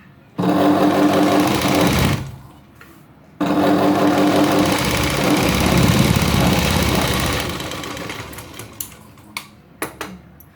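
Sewing machine stitching the lining of a blouse sleeve, running in loud steady bursts with a short pause near two seconds, then slowing and stopping with a few sharp clicks at the end.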